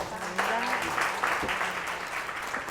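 Listeners at a forum talk in Seoul give the two speakers a warm round of applause, a sustained wash of clapping from a mid-sized audience, with a brief voice heard near the start.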